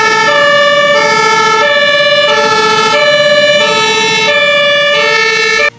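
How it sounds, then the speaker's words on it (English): A toy fire truck turbo sounds a loud, close electronic siren alternating between two pitches in a steady rhythm, several cycles running clearly alone for several seconds. "Yes, this is a fire truck turbo."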